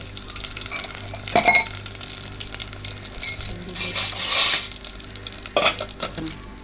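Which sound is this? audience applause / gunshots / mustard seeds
mustard seeds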